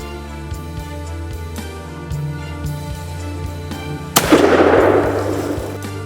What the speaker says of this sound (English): Nathan took the safety off and aimed for the shot.